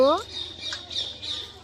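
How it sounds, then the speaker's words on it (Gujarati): At the hilltop Uparkot fort, crows and a koel call: a sharp squawk opens, then fainter bird calls carry on over quiet outdoor ambience. "કાગડા ને કોયલું બોલે છે."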